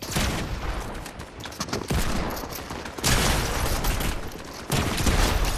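Shotgun fire in a zero-build shooter video game comes as loud, dense blasts and bursts of gunfire in several separate surges over a few seconds, with no voices.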